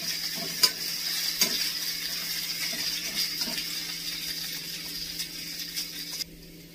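Potatoes and peanuts sizzle steadily in a pan for a fasting dish, with a few sharp stirring scrapes and knocks early on, then the frying hiss cuts off near the end; no one speaks.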